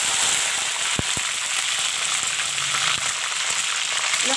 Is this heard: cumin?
yes